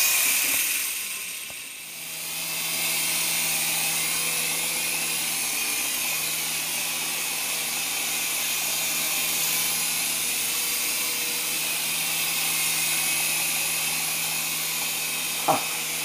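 A small Syma S107 Metal Series RC helicopter flies around a larger room, its rotors and motor giving off a steady, thin whine with a faint hum beneath, a brief dip early on and a sharp click near the end.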